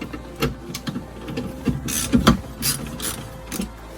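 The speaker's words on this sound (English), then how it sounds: "these top two, you can just loosen these, they don't need to come all the way out" A ratcheting tool loosens screws on the cabin air filter cover of a Porsche Cayman/Boxster/Carrera, giving close, irregular bursts of clicking ratchet sounds with short pauses.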